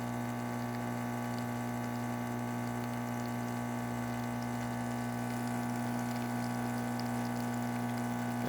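A Vibiemme espresso machine pulls a shot after a tune-up, its pump giving a faint, steady hum with a soft liquid stream from the spouts that runs unchanged throughout, without any voices.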